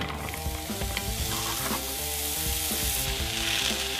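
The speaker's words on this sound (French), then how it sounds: "Et quand l'huile est chaude, on va faire cuire les courgettes." Courgettes fry in olive oil in two pans with a steady, dense sizzle and crackle throughout, mixed under loud continuous background music.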